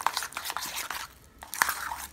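Vegan Lebanese dish ingredients dressed with lemon juice are tossed and mixed in a bowl, giving a run of close, wet crunchy squelches and scrapes in quick, irregular bursts, with no talking.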